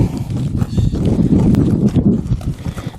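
A horse being backed up by a rider beside a saddle horse: dense, close clopping and shuffling of hooves on the ground, loud and continuous.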